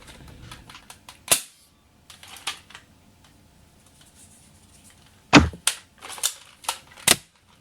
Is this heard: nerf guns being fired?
yes